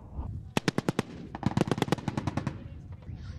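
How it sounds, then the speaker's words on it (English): Anti-aircraft guns fire during fighting around the Libyan town of Zawiya, sounding as a burst of about five sharp rounds followed by a longer, faster rapid string of shots, fairly close and loud over a background of distant rumble. "Anti-aircraft guns are their best weapons. They fire randomly, hoping for a lucky shot."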